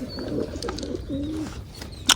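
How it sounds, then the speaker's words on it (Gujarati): A pigeon gives a few soft, low coos close by, ending with a sharp click. "એક કબૂતર બેઠો છે અહીંયા"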